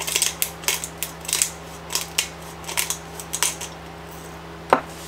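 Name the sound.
shaking vinaigrette ingredients in a small jar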